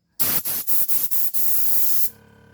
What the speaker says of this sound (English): and then the compressor kicks on automatically.